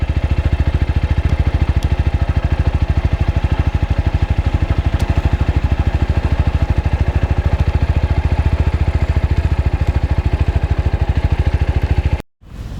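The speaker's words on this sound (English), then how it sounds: "We start the motorcycle in neutral, engage in first gear, and just let the clutch go." TVS Apache RTR 160 4V motorcycle (2020, BS6 engine) rolling in first gear with the clutch released and no throttle: a loud, close, steady low engine thrum with rapid even pulses, which cuts out briefly near the end.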